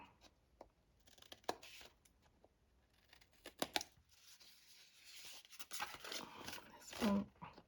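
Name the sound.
scissors cutting card for a gift box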